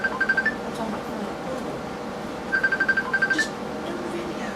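A telephone rings indoors with two short bursts of trilling electronic tones a couple of seconds apart, moderately faint behind low room noise.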